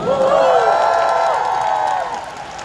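Concert audience at an encore in Cheongju cheering and applauding, a loud sustained crowd roar with high whoops that swells early and slowly fades toward the end.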